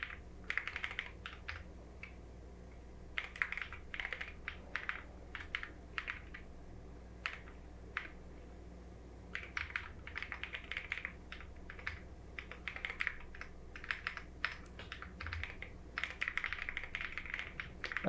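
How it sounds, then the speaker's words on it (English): Bursts of rapid typing on a computer keyboard while coding a game project, close and crisp, with clustered keystrokes separated by short pauses and no talking. "I'm just like typing out the start screen."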